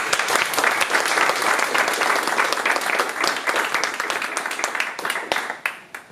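Sustained applause from a crowd, dense clapping at steady loudness that thins out toward the end with a few scattered claps.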